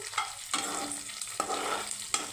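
A tempering of cumin and curry leaves sizzles in hot oil in a pan for bottle gourd sambar. The frying is steady and close, broken by several sharp stirring scrapes, with no talking.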